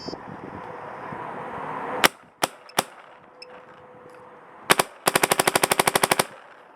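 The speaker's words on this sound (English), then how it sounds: "let's shoot this over the chrono and see what we get on that" A Pooty Clone spring-modified airsoft gun fires over a chronograph: a few separate sharp cracks, then a rapid full-auto burst of a dozen or so evenly spaced shots, close and clear with no talking.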